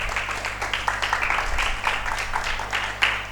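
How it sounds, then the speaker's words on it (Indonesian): A small audience claps for guest Bang Hasbi during a Ramadan talk program, giving light, uneven clapping with distinct bursts over a low steady hum. "tepuk tangan untuk Bang Hasbi"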